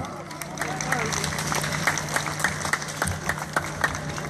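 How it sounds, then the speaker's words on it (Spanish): Crowd applause at a jaripeo rodeo presentation in Louisville, Kentucky: a steady patter of clapping from a gathered audience, carried under an announcer's amplified voice over the PA. "écheme el aplauso, mi raza"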